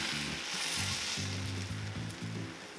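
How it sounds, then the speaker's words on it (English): An egg sizzles in a frying pan as it is spread to the edges, a steady close hiss under background music, with no talk. "When you put your egg in the pan this time, let's go ahead and run it clear out to the edges of the pan all the way around."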